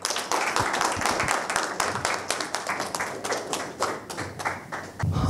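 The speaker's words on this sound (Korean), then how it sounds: "멋진 공연을 보여주신 테너 김정규님과 이모션 웨이브 AI 피아노에 다시 한번 큰 박수 부탁드립니다" Audience claps at a tech conference after a tenor sang with an AI piano, a loose patter of distinct hand claps, moderately loud and irregular, thinning slightly toward the end.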